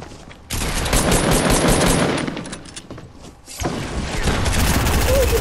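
Rapid video game gunfire in a frantic multiplayer shootout, loud sustained bursts of shots that break off briefly around the midpoint and then resume, with chatter mixed underneath.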